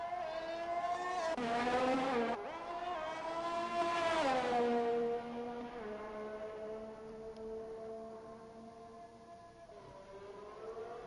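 A race car in a racing game at Abu Dhabi whines loudly through the gears, engine pitch climbing and dropping with shifts, then settles to a steadier lower drone as it slows into the pits.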